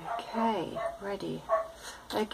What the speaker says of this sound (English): that's our neighbour's dog.